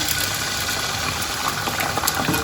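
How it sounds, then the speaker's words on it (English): Beaten eggs hit a tablespoon of hot oil in a pan, setting off a loud, continuous sizzle that crackles evenly throughout. "Here in the pan, I've got 1 tablespoon of oil that's been heated up. I'm going to add the eggs now."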